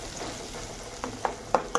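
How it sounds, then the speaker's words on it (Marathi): A spoon scrapes and stirs ground peanut paste in a hot pan for a fasting potato vada curry, a soft sizzle underneath and a few distinct clinks of utensil against metal toward the end. "याच्यामध्ये आपण आपले शेंगदाण्याचं वाटण टाकून घेणार आहोत। छान मिक्स करून घ्यायचं आहे।"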